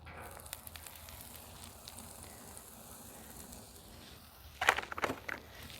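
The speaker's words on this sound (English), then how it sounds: "I'm going to start sauteing my onions" Onions sautéing in oil on a Pit Boss Deluxe griddle at medium heat, a quiet steady sizzle with scattered crackles and a brief louder burst of hissing near the end.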